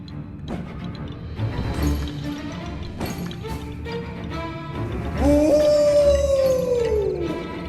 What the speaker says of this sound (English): Eerie howls echoed through the Snacker Bosk's shadowy branches.